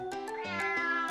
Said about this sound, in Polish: A, co za niegrzeczny kotek!